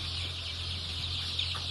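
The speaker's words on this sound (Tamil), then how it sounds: "இதுல இந்த வளர்ந்த கோழி குஞ்சுலங்க இருக்கு" Grown chicken chicks cluck together inside a pen at a Sri Lankan poultry farm, a dense continuous chorus of soft clucks and peeps heard close, without talk.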